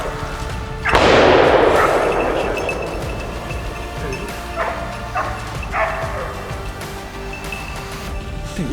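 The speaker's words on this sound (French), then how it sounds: "Ah, il y a le chien." A hunting dog barks out in the woods during a wild boar drive hunt, with one sharp, loud bark near the start followed by a few fainter, scattered barks and rustling.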